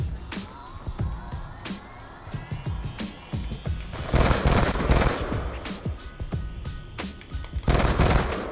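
Rapid automatic gunfire from Black Ops 2 in a free-for-all match, with bursts and scattered single shots throughout and heavier, louder volleys in the second half.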